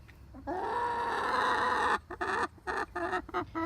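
A hen clucks close by, one long drawn-out cluck followed by a quick series of short choppy clucks.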